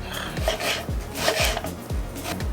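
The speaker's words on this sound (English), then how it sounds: "Now, you can cut the onions as fat or as thin as you like." Knife chopping onions on a cutting board in a home kitchen, a steady series of close, crisp cuts at a fairly quick, even rhythm with no talking.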